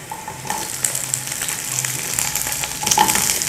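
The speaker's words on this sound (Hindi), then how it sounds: "ही इसमें हम करेंगे लहसुन चॉप जो किया हुआ था उसको हल्का सा फ्राई करते" Chopped garlic fries in oil in a kadai for chicken chilli, giving a close, steady crackling sizzle with a few light stirring scrapes, growing slightly louder toward the end, with no talking.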